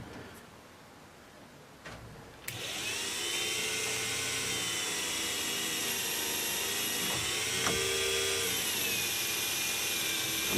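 A lathe spins up after a couple of clicks into a steady high-pitched whine of drilling metal, continuous and close.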